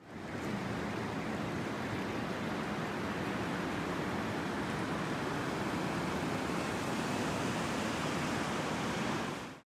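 The Colorado River rushes through the Grand Canyon as a dense, steady roar of flowing water, broad and unchanging from start to finish before cutting off abruptly.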